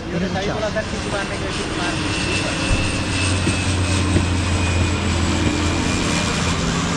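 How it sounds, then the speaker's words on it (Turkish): A seaplane engine at White Beach drones steadily and close by for the whole stretch, with a low, even hum under a broad wash of noise and some faint voices in the background. "Bu arada deniz uçakları çok güvenlidir."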